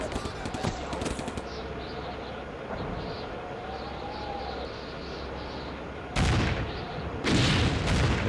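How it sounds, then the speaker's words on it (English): Artillery strike in the video game Combat Mission: Afrika Korps, with a steady rumbling battlefield background broken by loud bursts of shelling near the start and again toward the end, plus brief tonal calls in the middle. "the background sound, the artillery strike is imminent"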